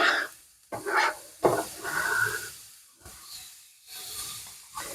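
Chopped onions go into a lidded pot and cook with soft, intermittent hissing bursts and scraping movements, close and fairly quiet, rising and falling in short waves.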